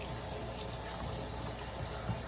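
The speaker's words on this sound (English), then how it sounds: "I like to rinse off with really cold water to seal in" Cold tap water runs steadily over hair during a rinse on wash day, a constant close hiss and splash with no speech.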